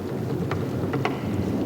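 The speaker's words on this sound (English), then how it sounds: "the chimps 7 days a week, Jane ignored the rain" Rain falls steadily in a forest where wild chimpanzees live, a dense, even hiss with a few brief louder spatters, heard alone without voices.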